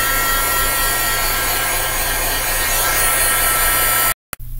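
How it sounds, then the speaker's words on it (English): A heat tool drying Distress ink on a card blows a steady, loud, close whoosh that runs unbroken for about four seconds, then cuts off abruptly and clicks briefly back on. "I'm going to take the heat tool and dry this real quick"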